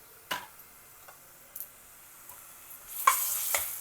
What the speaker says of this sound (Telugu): ఉల్లిపాయలు కొంచెం ఎర్రపడ్డిన తర్వాత మనం అల్లం వెల్లుల్లి ముద్ద వేసుకొని వేయించుకోవాలి.